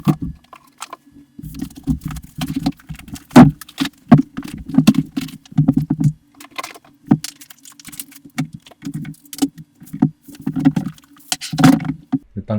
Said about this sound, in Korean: 그럼 이제 박스를 한번 열어볼 건데요.